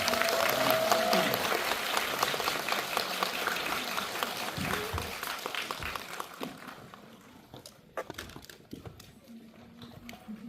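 An audience applauds at a Korean film screening Q&A in a cinema. The dense clapping is loud at first and then thins out into scattered claps, with some voices in the background.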